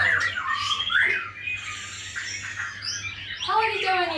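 Oriental magpie-robin calls at a bird training school in Tangerang, with sharp squawks and chirps in bursts at the start and again near the end, close and fairly loud over a steady low hum.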